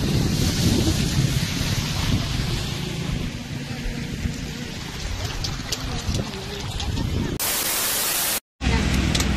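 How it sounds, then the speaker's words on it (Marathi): Heavy rain pours down in a dense, constant roar at Tamhini Ghat, with voices faintly audible beneath the downpour. "बघा किती पाऊस चालू झालाय"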